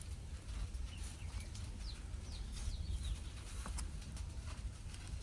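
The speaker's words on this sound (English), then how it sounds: "Sounds of the birds chirping away." Birds chirp outdoors in short, faint high calls scattered over a steady low rumble of background noise, with no voices.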